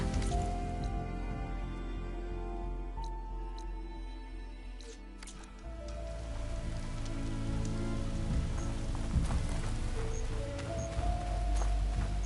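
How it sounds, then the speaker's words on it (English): Rain in the Horizon Forbidden West video game falls steadily on surfaces, a dense patter of drops with scattered sharper drips, continuous and moderately loud, with a faint musical drone underneath. "It's starting to rain."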